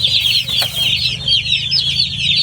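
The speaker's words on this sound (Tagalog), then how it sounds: "Lagay na natin sa brooding cage mga ka-chicks para mainitan ng mga sisiw." About 150 day-old chicks peep nonstop in a brooding cage, a bright, high chorus of overlapping cheeps over a low hum.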